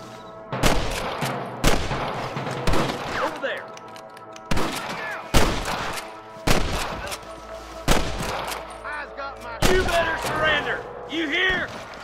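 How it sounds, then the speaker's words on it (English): Repeated gunshots and short bursts in the video game Red Dead Redemption ring out at a steady pace, mixed with shouted voices and echoing impacts. "I can hear more gunshots."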